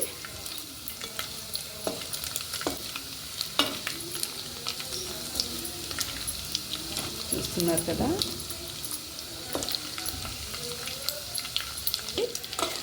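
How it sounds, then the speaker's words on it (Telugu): Dried fish fry in a hot pan with steady sizzling and repeated scraping stirs throughout, while someone talks over the cooking. "ఇలా కడుక్కున్న ఎండు నెత్తళ్ళని బాగా వేయించుకోవాలి"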